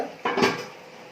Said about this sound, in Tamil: இப்போ அஞ்சு நிமிஷம் ஆயிடுச்சு மூடி திறந்துருங்க